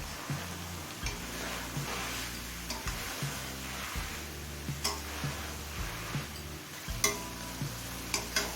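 A spoon stirs an egg and vegetable curry with chopped coriander in a pan, giving light, regular scraping taps against the metal over a soft low simmer, with no talk.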